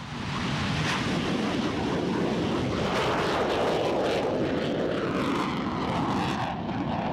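A CF-18 Hornet fighter jet with two F404 engines roars loudly and continuously on takeoff, a heavy broadband engine rumble that holds steady throughout.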